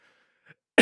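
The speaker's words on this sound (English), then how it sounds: "I've coughed about 24 times." A single sharp, loud cough bursts out close to the mic from a man who is feeling unwell, following a near-silent stretch with faint breathy sounds.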